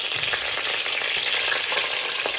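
Chicken pieces fry in hot oil, kept soft rather than deep-fried, with a dense, continuous crackling sizzle and a few faint stirring scrapes, close and fairly loud with no voices.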